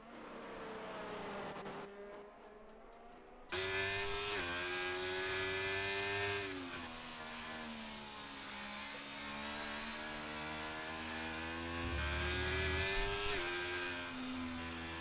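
Formula 1 cars from a racing video game screaming through flying laps on the Spain circuit, loud continuous engine whine with rising and falling pitch as gears shift, steady and close with no talk.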